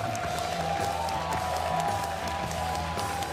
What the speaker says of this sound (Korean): 관중들도 선수들 힘내라고 더 크게 박수를 쳐주고 있는 것 같습니다.